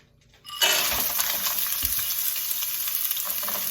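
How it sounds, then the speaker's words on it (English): Frozen mixed vegetables hit hot oil in a pan and burst into a loud, steady sizzle after a brief quiet moment, with faint stirring clinks underneath and no talking. "I am going to add my mixed vegetables into the pan"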